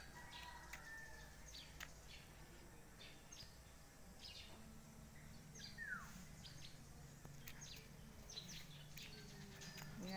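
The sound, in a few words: birds in a backyard fruit tree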